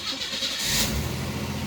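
A 1987-1990 Chevrolet Celebrity with about 235,000 miles is started up, the engine cranking briefly and catching into a steady mid-pitched running sound, close and moderately loud with no talking.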